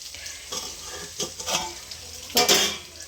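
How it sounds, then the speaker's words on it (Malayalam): Prawns frying in a pan, a soft continuous sizzle broken by a few louder bursts of stirring and spatula scrapes against the metal, close and without talk. "നമ്മുടെ കൊഞ്ച് ഇവിടെ ഇരുന്ന് ഫ്രൈ ആവുന്നുണ്ട്"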